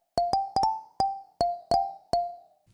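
Acoustic Xylo synth pluck preset for tropical house plays eight short, bright mallet-like notes in a quick, uneven rhythm, each decaying fast, heard alone.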